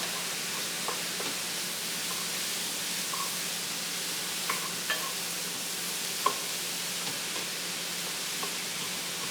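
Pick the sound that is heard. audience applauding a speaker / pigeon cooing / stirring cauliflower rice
stirring cauliflower rice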